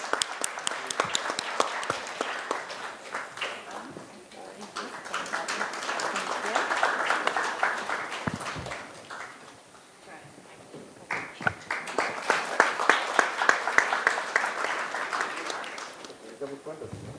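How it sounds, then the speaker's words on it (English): An audience at a CSR and due diligence conference claps for speakers receiving mementos, with two long waves of scattered applause separated by a brief lull. Voices mingle with the clapping. "Can you have a round of applause, please?"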